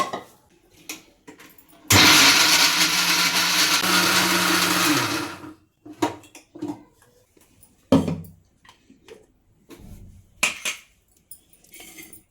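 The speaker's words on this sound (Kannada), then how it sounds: "ಜಸ್ಟ್ ಹಲಸಿನ ಹಣ್ಣು ಏನಿದೆ ಅದನ್ನು ಮಾತ್ರ ಹಾಕ್ಕೊಂಡು ನುಣ್ಣಗೆ ರುಬ್ಕೋಬೇಕು" A kitchen mixer grinder blends jackfruit pieces into a fine puree with no water added, a loud close whirring roar for several seconds that drops off abruptly, followed by scattered clinks and handling knocks.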